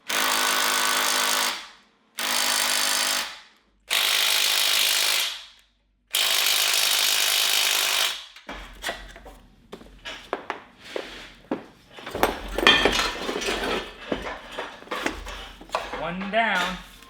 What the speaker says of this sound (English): now I'm in the process of taking the upper and lower control arms off and the spindles off as well